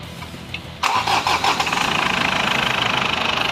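A Mazda BT-50 engine with a newly replaced timing belt cranks briefly and catches with a sharp start, then settles into a steady, even idle that runs on loud and close.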